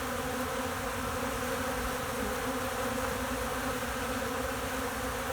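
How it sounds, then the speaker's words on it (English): Dense, steady buzzing of many honeybees swarming a sugar water feeder, a constant close hum with no breaks or voices. "The bees are coming to the feeder."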